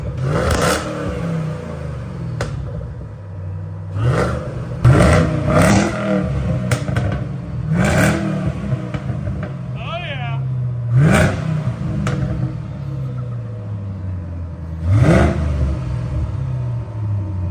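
A car engine with gutted mufflers and 3-inch exhaust tips revs repeatedly in loud, raspy bursts, each roaring up and dropping back to a rumbling idle, with a brief voice between revs.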